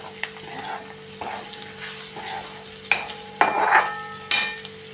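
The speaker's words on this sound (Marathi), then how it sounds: "आणि हा 1 चमचा गोडा मसाला, ते आता चांगलं परतून घ्या।" Bitter gourd being sautéed with goda masala in a pan, a low steady sizzle broken by several sharp scrapes and clinks of a spoon stirring against the metal, close and distinct.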